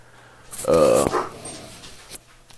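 Dogs are heard nearby as a short burst of whining, yelping barks, mixed with a voice and faint room noise.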